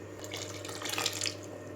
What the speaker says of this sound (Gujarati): થોડું હજુ પાણી રેડીશું।